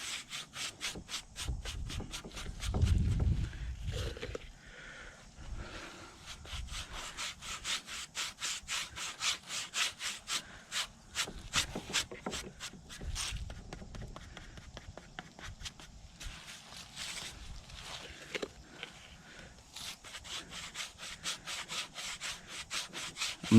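A brush spreading a coat across a boat floor makes steady, rapid rhythmic scrubbing strokes close by, repeating for a long stretch with brief pauses and a few duller knocks, and no talking.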